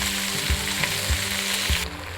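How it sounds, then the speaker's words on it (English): Onions sizzle steadily in a pan while cooking for a Jamaican curry chicken, with a few soft rhythmic thumps of stirring about every half second over the continuous close frying hiss; no one speaks. "you are going to cook these until the onions turn a bit translucent"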